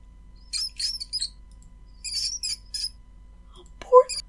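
Squeaks and squeals of a mouse being fed to a cat in a cat video game: bursts of thin high-pitched squeaking in two clusters, then a short lower cry before it cuts off.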